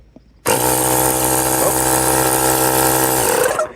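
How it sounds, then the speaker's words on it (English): An air compressor kicks on in a workshop beside a mini excavator, a loud steady motor drone with a strong harmonic hum that starts abruptly, runs continuously for about three seconds, then cuts off. "That was the air compressor."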